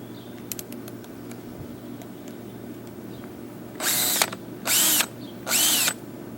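Power drill unscrewing a part on a pop-up camper: three short, loud whirring bursts in a row, each about half a second long, after a few quiet clicks and some handling noise.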